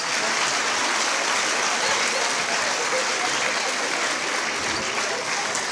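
Students receiving applause at a school patronage ceremony in a hall, as a dense, sustained clapping from a large audience that stays loud and even throughout.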